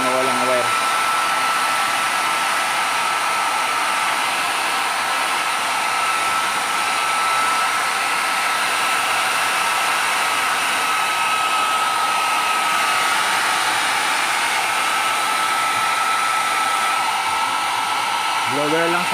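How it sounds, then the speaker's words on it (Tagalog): A hair dryer blows steadily and loudly up close for the whole stretch, used to dry out a flood-submerged engine, its constant whooshing drone unbroken apart from faint shifts as the nozzle moves. "Blower lang sa buhok gamit namin."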